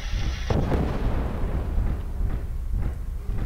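Heavy weapons fire at a Thor mech in the MWLL video game, giving one sharp blast followed by deep, rumbling bursts of gunfire and explosions.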